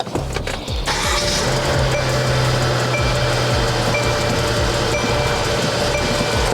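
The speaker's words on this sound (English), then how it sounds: "So I'm gonna start it, pump the brakes so the pressure can come back up" A car engine idles steadily and loudly after starting, a low constant drone with a faint whine, while the brakes are pumped to restore pressure before a test drive.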